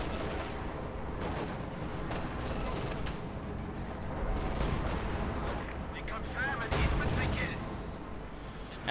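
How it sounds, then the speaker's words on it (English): Howitzer artillery fire in Company of Heroes 2 during a one-versus-one World War II match, with booming shots and scattered gunfire mixed into dense battle noise at moderate level. "There we go, more kills from the howitzer."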